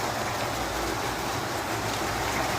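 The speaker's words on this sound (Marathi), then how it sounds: "खूप मोठा पाऊस झाला इकडे." Heavy first monsoon rain falls outside in Udgir as a dense, constant roar with no breaks, loud and steady all the way through.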